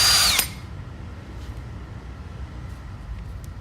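An Ozito CDB 6100 brushless cordless drill with two speed settings gives one short, loud, high whirring burst at the start, then cuts out and leaves a quiet room hum.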